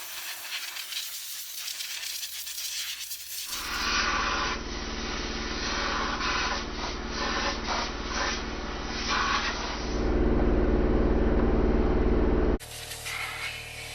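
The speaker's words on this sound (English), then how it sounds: "we're gonna blow off everything with an air compressor" An air compressor nozzle blows debris off a household Dyson vacuum with a loud, steady rushing hiss that holds for several seconds, surges briefly, then cuts off.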